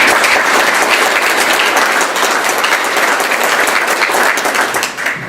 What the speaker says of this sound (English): give them a big round of applause as well.